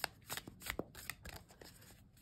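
Tarot cards with matte stock are shuffled by hand in a quick run of crisp riffling flutters and soft slaps, close and fairly quiet.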